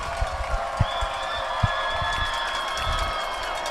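Crowd cheering at a high school football game between Valley Center and Campus, a broad, sustained roar of many voices with scattered claps and thumps, heard at a moderate distance.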